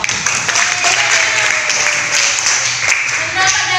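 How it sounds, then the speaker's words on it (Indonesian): Students in a high school classroom clap together in a close, fairly loud burst of overlapping handclaps that carries on steadily for several seconds, with some voices mixed in. "Tepuk tangan dulu dong."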